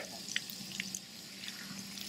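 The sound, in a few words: shower running water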